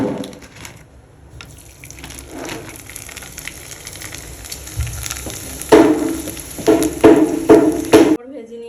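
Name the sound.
papad being fried in oil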